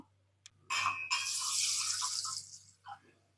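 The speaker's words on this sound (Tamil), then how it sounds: "வெந்தயத்தில் வந்து தண்ணி ஊற்றியாச்சு" Water pours in a short, steady splash into a container of fenugreek seeds, close by, ending with a small trickle and drip.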